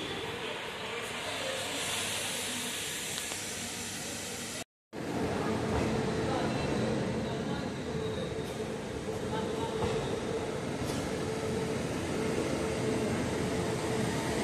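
A Prayagraj to Howrah special train (03024) runs on its tracks with a steady, loud rumble and hiss. A brief cut of silence falls just before midway, then the rumble continues.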